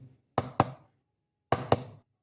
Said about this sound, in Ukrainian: два рази стукають об щось, і тоді лезо перевідкривається, і його легше дістати